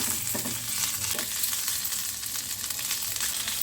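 Curry leaves and a pinch of asafoetida fry in hot oil for a Gujarati khatta moong, giving a loud, dense, continuous crackling sizzle close up for a few seconds, with no voices.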